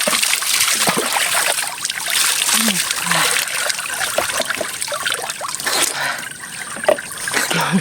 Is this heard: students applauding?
no